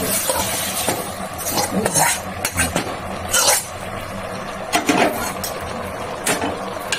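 Metal utensils clink and scrape against a cooking pot as fried ingredients are stirred into bhuna khichuri, giving irregular close knocks and rattles over a steady low kitchen background, with no talking.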